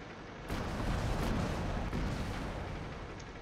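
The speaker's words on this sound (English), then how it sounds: "I guess someone is testing out their new gun" A tank gun fires in the World of Tanks video game: one sudden loud boom about half a second in, followed by a long, heavy rolling rumble that slowly fades. No one speaks.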